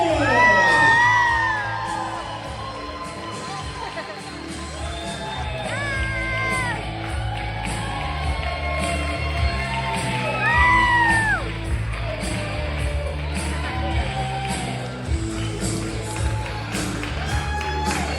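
Wedding guests cheer for the newlyweds, a crowd of loud whoops, yells and rising shouts that swell and overlap continuously across a reception hall.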